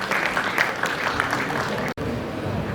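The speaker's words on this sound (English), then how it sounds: "Can we have a huge round of applause?" Dense applause and some crowd noise from the audience at an international startup competition as a team is called on stage, loud and sustained, then cutting abruptly to a quieter room tone.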